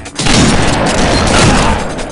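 Loud, dense bursts of gunfire from the video game SWAT 4 fill a short tactical police shootout, rapid shots overlapping into a continuous roar with no speech over them.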